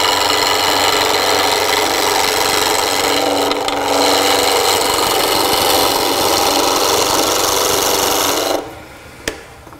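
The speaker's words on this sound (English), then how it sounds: "we can tilt it over like this and give us some more of a shearing cut." A continental gouge takes a shearing cut on wood spinning on a spindle lathe. The loud, steady rasping hiss runs unbroken for about eight and a half seconds, then stops, followed by a single faint click.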